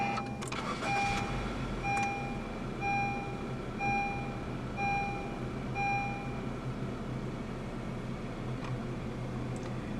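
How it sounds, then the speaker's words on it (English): A 2014 Honda City 1.5 E idles steadily after a push-button start, a low engine hum running throughout while a repeating chime sounds at regular intervals, with no one talking. "Put your foot on the brake and press the red start button to the left of the steering wheel."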